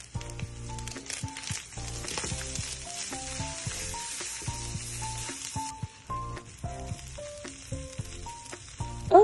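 Nasi goreng stir-fried in a wok with anchovies, winged beans, torch ginger flower, laksa leaves, long beans and stink beans, sizzling steadily while background music plays throughout.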